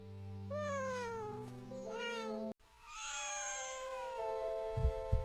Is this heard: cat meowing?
yes